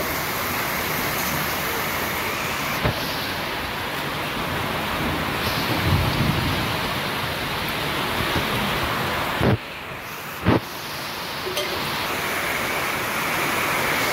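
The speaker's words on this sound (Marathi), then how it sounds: "लय मित्रांनो पाऊस पडले भयंकर." Heavy monsoon rain pours down outdoors in a steady, loud broadband hiss that runs unbroken for the whole stretch, with a few brief knocks and dips but no voices.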